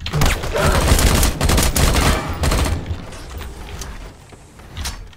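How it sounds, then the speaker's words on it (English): Gunfire in the online survival shooter Dysterra: loud, rapid bursts of automatic shots crowding the first three seconds, then sparser, fainter shots trailing off, with no voices. "There's a lot of other shooting going on."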